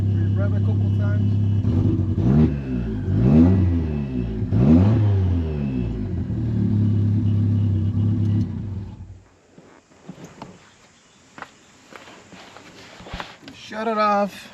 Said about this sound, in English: We rev a couple times.